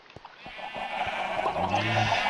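A drawn-out Minecraft sheep bleat rises and holds, preceded by a few soft clicks, with a steady background hum throughout.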